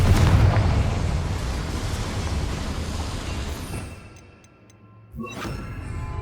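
A loud magical blast from the Confringo fire spell in Hogwarts Legacy, fired inside a small mine: a booming explosive burst that rumbles and fades over several seconds, then a second sharp crack and crackling debris near the end.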